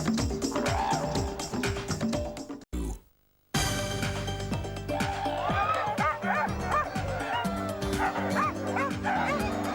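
Many sled dogs barking, yipping and whining together in a loud, continuous chorus, briefly cut off by a gap of near silence before resuming.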